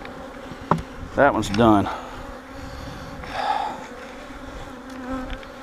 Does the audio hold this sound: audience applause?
no